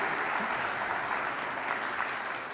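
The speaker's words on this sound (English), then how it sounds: "Let's applaud for Claude." An audience applauds at an interview event with the founder of Google Maps, a sustained, even wash of clapping hands that holds steady at moderate volume from start to finish.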